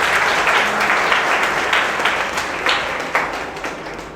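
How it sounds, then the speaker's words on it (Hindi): Audience applause for a student's strong NEET exam result at a coaching class, a dense, steady clapping that fills the whole four seconds with no voices over it. "इनको तालियां बजती रहनी चाहिए।"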